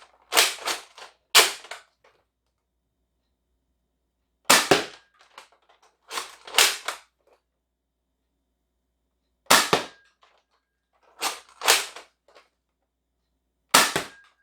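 Spring-modded Lanard Huntsman 50 blaster firing Elite foam darts: sharp snapping shots in spaced pairs, close and loud, with quiet gaps between them and no talking.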